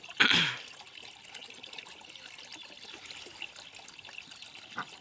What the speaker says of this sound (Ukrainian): Набираю водичку скрізь і всюди, де можна.